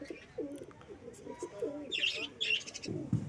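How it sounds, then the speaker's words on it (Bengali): Soft, low pigeon cooing repeats several times, with a few higher bird chirps breaking in partway through against light background noise. "এটা হচ্ছে তেলচিটি পায়রা"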